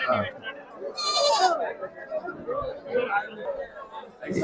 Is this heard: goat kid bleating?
yes